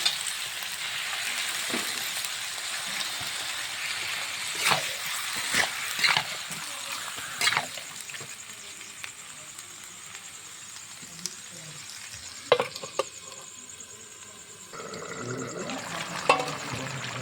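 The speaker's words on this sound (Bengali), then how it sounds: "মশলাটা কষিয়ে নেব। মাংসগুলো তুলে দেবো।" Meat and spices sizzle and fry in a pan, with scraping stirs and clatter up close, continuous hiss throughout and a voice talking briefly.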